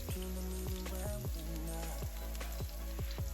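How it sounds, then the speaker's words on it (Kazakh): Chopped onion fries in hot sunflower oil in a pan, making a close, steady crackling sizzle with light stirring scrapes throughout. "Табамызға күнбағыс майын құйып, қызған соң үстіне пияз салып қуырып аламыз."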